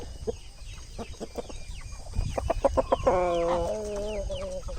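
Hens clucking in a backyard coop among old laying hens and roosters, a run of short rhythmic clucks building into a sustained, wavering call, fairly close with farmyard background.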